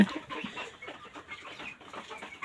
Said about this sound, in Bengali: আর নিচে ফার্মি মুরগিগুলো আছে